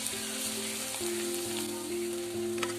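Crushed garlic fries in sesame oil in a pan, with a continuous close sizzle and crackle plus a low steady hum in the background, and no voices.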